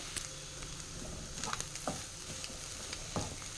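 A spoon stirs boiled egg curry in a pan after garam masala and coriander powder go in, making quiet scattered scrapes and clinks over a faint, steady sizzle.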